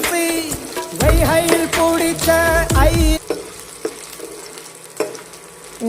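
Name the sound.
garlic being sautéed in a pan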